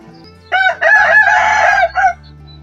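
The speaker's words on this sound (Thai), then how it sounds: "ไปนั่งฟังเสียงไก่ขัน" A rooster crows once, a loud, close cock-a-doodle-doo with a rising start and a long drawn-out wavering call, over a low steady background hum.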